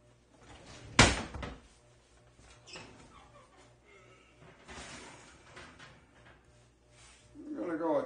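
An oven door for baking a chicken pot pie at 375 degrees opens with a sharp, close clunk, followed by quieter clatter and faint voices in a kitchen.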